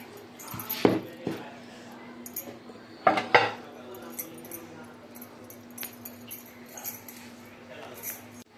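Metal clanks as a heavy old tawa griddle is set down on a stove, two clusters of clattering with a quiet hum and faint background sounds.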